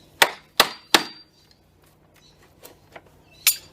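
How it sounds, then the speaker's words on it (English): An old chisel is driven between a wooden pallet slat and stretcher with hammer blows: three sharp ringing clangs in quick succession, a pause with faint knocks, then one more loud strike, close and with no talk. "driving it between the slat and the stretcher. Give it a couple of hits"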